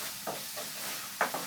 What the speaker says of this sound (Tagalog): I-mix lang natin siya ng maigi.